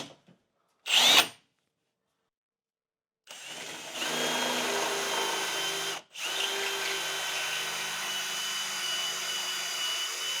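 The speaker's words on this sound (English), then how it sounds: "See how this drill bit does coming through this way for the actual Lockset itself." A power drill bores a hole for a door lockset: a short burst, a pause, then a loud, steady close-up whine of the bit cutting through, briefly stopping before running on, with no talking.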